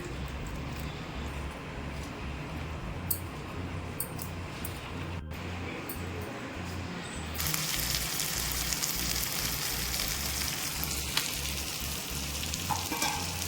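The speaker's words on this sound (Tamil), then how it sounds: "இப்போ க்ளீன் பண்ண மீனை சேர்த்துக்கலாம்" A pot of mango fish curry boils and sizzles steadily as cleaned fish pieces are added, a soft, constant bubbling hiss that turns brighter and fuller partway through, with no voices.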